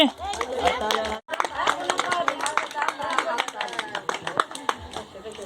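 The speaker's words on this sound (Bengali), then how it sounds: "হাততালি হাততালি" Several people clap hands at a Christmas celebration in Bankra Dober, West Bengal, a dense run of close claps with a brief pause, mixed with crowd chatter.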